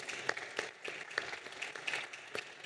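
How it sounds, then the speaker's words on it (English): A faint, distant round of applause for a conference panel, with individual claps standing out sharply over a sparse, quiet patter. "So please, let's give them a round of applause."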